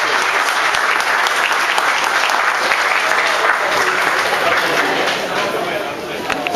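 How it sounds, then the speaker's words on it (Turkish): A large crowd applauds steadily and loudly for the coach and players of the Anafartalarspor football club at a team dinner, the clapping continuing without a break and tapering slightly near the end. "bütün kardeşlerim için büyük bir alkış"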